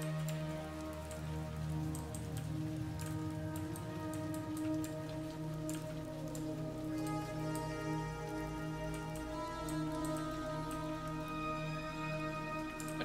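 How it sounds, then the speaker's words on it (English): Rain sounds from a music album, a soft, steady patter under sustained musical tones, faint and continuous throughout. "I just like the rain sounds."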